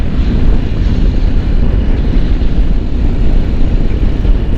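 Loud, continuous rumble of a Ducati Desert X Rally motorcycle engine while riding, close up and mixed with wind noise, with a steady drone and no break.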